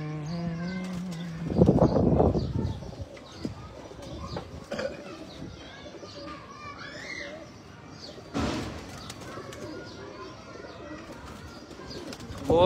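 Pigeons at a breeder's loft in Faisalabad give a few low coos amid a loud thump and scattered knocks, with voices talking at times.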